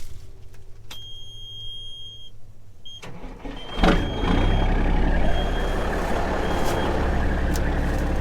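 A farm truck at harvest time beeps steadily while reversing, the tones clear and close, then its engine revs up loudly and keeps running as it moves off.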